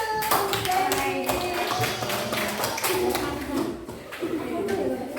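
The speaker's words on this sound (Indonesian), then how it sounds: "Kasih tepuk tangan dulu." A group claps in a rhythmic pattern, close and fairly loud, with voices mixed in over the clapping.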